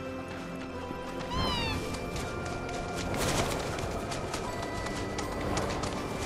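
Cat meowing in the video game Final Fantasy 7 Rebirth, a short rising cry near the start heard over busy game sounds and background music.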